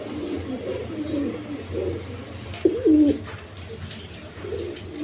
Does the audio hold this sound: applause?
no